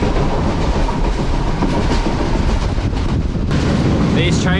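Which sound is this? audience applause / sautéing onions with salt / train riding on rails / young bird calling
train riding on rails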